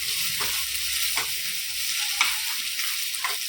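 A tempering frying in a pan, with a constant soft sizzle and repeated rhythmic scrapes of a spoon stirring it about once a second.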